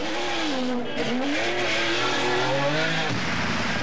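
Factory Porsche rally cars in the 1985 Paris-Dakar race roar past close by, engines revving and shifting pitch as they accelerate, with a brief drop as one passes.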